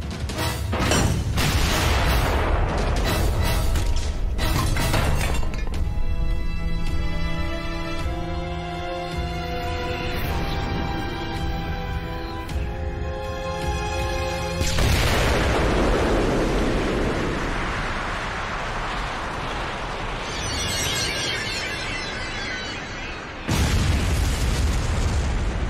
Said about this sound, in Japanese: フレシェット弾命中。